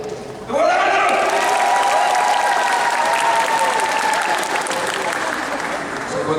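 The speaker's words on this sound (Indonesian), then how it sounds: "Tepuk tangan terus." A group at a tactical martial arts training session for Pertamina trainees breaks into steady, dense applause that starts suddenly and holds strongly throughout, with a few voices calling over it.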